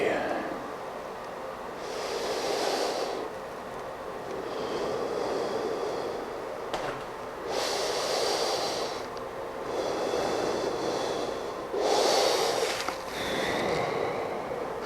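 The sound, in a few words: deep belly breathing during yoga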